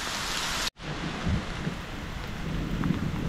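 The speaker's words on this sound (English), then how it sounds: "It's raining and pouring and frozen rain, snowing chunks, thunder and lightning." Heavy rain mixed with frozen rain pours steadily with a dense hiss, briefly cut by a gap, and low rumbles of thunder underneath, on the Virginia Creeper Trail.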